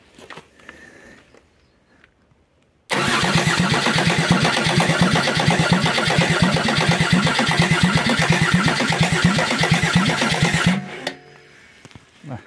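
A Volkswagen LT 31D van's old 2.4-litre six-cylinder diesel cranks and fires up, settling into a loud, steady, rapidly pulsing idle for several seconds before cutting off, with faint activity before the start.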